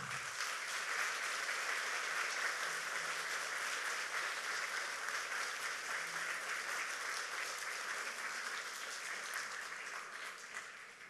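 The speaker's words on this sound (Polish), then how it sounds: "Wielkie brawa także dla nich." A concert audience in Gorlice applauds a jazz quartet, a broad sustained roar of many hands clapping that runs evenly for several seconds and eases slightly at the close.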